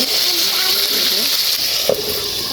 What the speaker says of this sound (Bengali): এই পাশে চিকেনটা হচ্ছে ভাজছি আমি